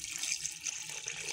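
One cup of water is poured into mutton keema in a cooking pot, a short hissing splash of running water lasting just over a second, close and fairly quiet.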